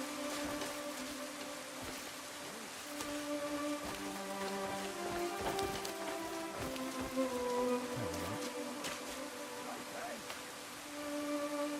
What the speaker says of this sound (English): Everybody's getting out of the rain.